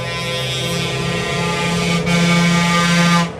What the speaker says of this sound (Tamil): ஏத்தாப்புலேருந்து நமக்கு ஹார்ன் அடிச்சிருக்காங்க.